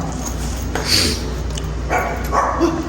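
A dog barks and yips a few times indoors, short sharp calls at moderate distance over a steady background hum.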